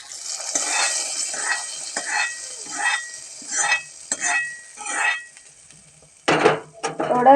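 Mustard seed tempering fried in oil is poured into a Kerala buttermilk curry (moru curry): a run of close scraping stirs in a pan, then a loud, hissing sizzle as the hot oil hits the curry near the end.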